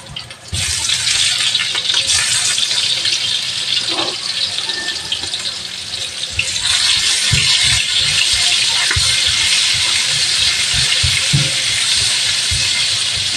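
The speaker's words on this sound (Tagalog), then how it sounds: "Tapos dyan na tayo magigisa. Una nating ilalagay ay ang luya. Next, sibuyas." Ginger and onion sautéing in oil in a pan for fish with black beans, a loud continuous sizzle and hiss that swells brighter as the onion goes in, with faint clinks and stirring underneath.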